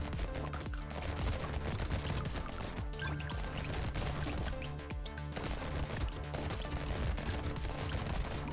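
Blunderbuss fire in the arcade shooter Brotato: a dense, continuous barrage of overlapping shots with clattering impacts. It stays loud and busy the whole time, with no talking.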